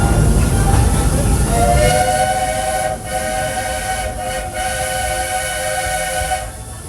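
A Walt Disney Railroad train at Magic Kingdom, Walt Disney World, rumbles steadily while a loud, sustained whistle sounds for several seconds over the running noise.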